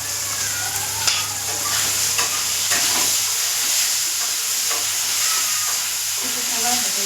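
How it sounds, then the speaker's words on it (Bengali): Potatoes and spices for a tangra fish curry frying in a pan, a continuous loud sizzle and hiss with occasional stirring scrapes, close by, no talking. "কিছু সময় ভেজে নেবো"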